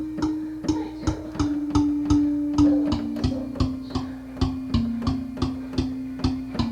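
A synth pluck from Serum, made for a beat, repeats in a steady, even rhythm of short, sharp tonal hits with quick decays, clear and up front with no voices.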